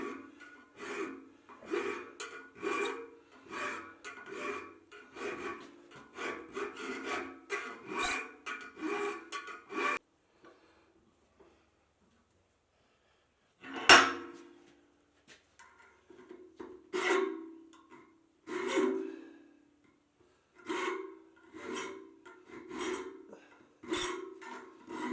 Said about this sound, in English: So I'm going to do the file work to clean this all up and get a nice shoulder.